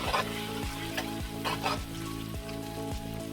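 Beef with its juices sautéing for Mongolian beef, continuous loud sizzling close up with rhythmic stirring scrapes, and a steady tonal hum running underneath.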